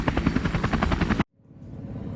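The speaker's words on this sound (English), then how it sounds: "I'm going to listen to that plane going by, or helicopter, whatever it is." A helicopter passing overhead makes a loud, rhythmic rotor thumping that cuts off abruptly midway, then a quieter engine rumble fades back in.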